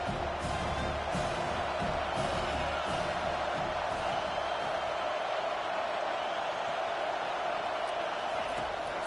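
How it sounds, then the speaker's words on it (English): A home stadium crowd roars steadily at a college football game in NCAA 25, a dense, continuous wash of cheering and whooping that stays loud and even from start to finish. "how nice is it to have the home crowd going absolutely bananas?"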